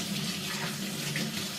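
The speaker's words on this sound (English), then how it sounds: "So first we're going to start off with washing our hands" Water from a kitchen tap runs steadily while hands are being washed before cooking, a continuous close hiss and splash with no talk.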